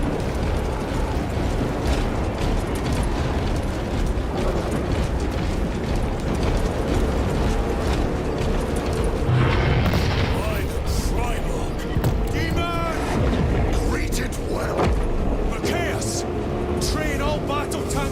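Gunfire and explosions in the Warhammer 40K: Space Marine 2 video game, a loud battle with steady shooting and heavy booms layered under shouted voices.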